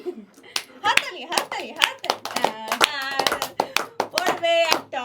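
A mother claps her hands in quick, sharp bursts during a hair-clips spin-the-wheel game at home, the claps close and crisp amid frequent overlapping chatter from children and adults.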